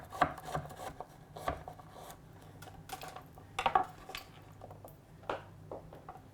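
Knife chopping courgette into small pieces on a board, a string of sharp, close taps spread irregularly with pauses between cuts, fairly quiet and with no talking.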